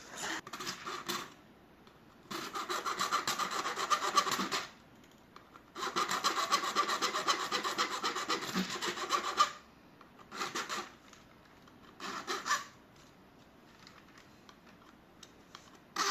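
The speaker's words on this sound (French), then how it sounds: "Il va falloir que je lime un petit peu parce qu'il y a des petites tolérances peut-être à respecter." A hand file rasps at a small sail adjustment fitting in repeated bursts of scraping strokes, with short pauses between sets and quieter strokes toward the end.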